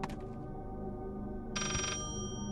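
A telephone rings inside the horror video game Layers of Fear: a bright electronic ring at the start, then a second clear ringing burst over a low, murky ambient drone.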